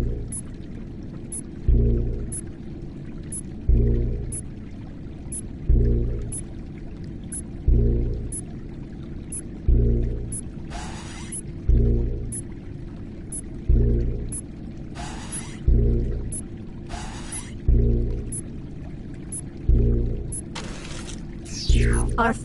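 Liquid pours from a deliberation fountain in a party video game: repeated rhythmic gushes come roughly every two seconds under a steady hum, with occasional brief high synthetic chimes and sweeps, and no one speaking.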